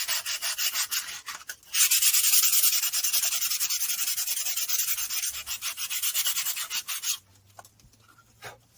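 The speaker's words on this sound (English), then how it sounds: "all I'm going to do is just take a little piece of sandpaper" Quick back-and-forth strokes of a small piece of sandpaper rubbing a surface on a Yamaha Virago motorcycle build, rhythmic and close, running several seconds before stopping into a faint low hum.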